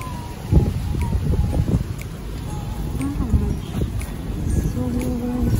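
Strong wind buffets the microphone outdoors on a blustery day, a steady rushing roar with gusty swells throughout, with faint voices and small knocks in the background.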